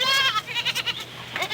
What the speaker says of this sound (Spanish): Es una cabra.